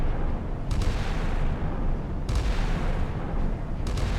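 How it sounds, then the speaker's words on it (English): A Harpoon anti-ship missile launching in the naval game Sea Power, with a few deep booming blasts spaced a second or more apart over a low, rumbling background. "I fired a harpoon"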